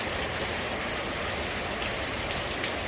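Heavy rain pours down steadily, a dense, unbroken hiss of drops striking surfaces, close and constant with no voices.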